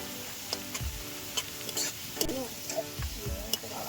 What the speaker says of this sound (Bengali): বেরেস্তাটা কিন্তু সবসময় নাড়াচাড়া করতে হবে, না হলে একটা হয়ে যাবে আর একটা কাঁচা থাকবে।